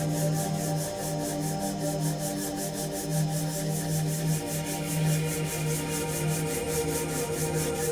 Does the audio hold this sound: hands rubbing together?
yes